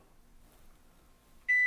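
An oven set to 350 degrees finishes preheating and gives one short, clear electronic beep after a near-silent stretch of room hum.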